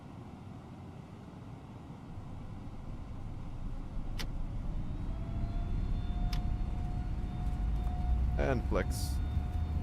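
Airbus A321neo engines spool up on a takeoff roll in the FSLabs flight simulator, a steady broadband roar that builds gradually under brief cockpit speech and a rising tone.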